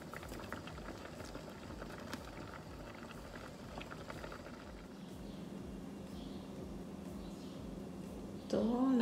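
Mung beans boil in a pot on the stove, a steady low bubbling and popping simmer that continues throughout at moderate volume, with a faint voice and a brief clink near the end.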